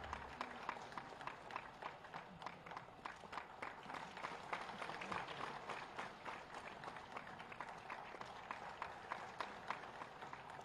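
An audience claps steadily at a state teachers' award ceremony for Teachers' Day in Uttar Pradesh, with dense sustained applause filling the hall at moderate distance.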